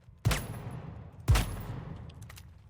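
Two loud shotgun blasts fired at bots in the shooter game The Finals, about a second apart, each a sharp boom with a fading tail and no voices over them.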